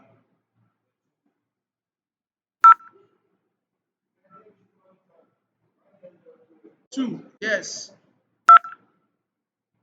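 A few short IP phone keypad dialing beeps in Cisco Packet Tracer, sharp isolated tones spaced across otherwise quiet moments, with a brief spoken word and faint noises in between.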